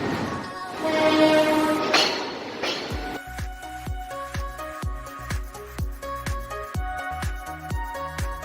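Passenger train travelling from Dhaka to Sitakunda, heard from on board: rumbling motion and a horn-like tone at first, then a steady rhythmic clatter of wheels over rail joints.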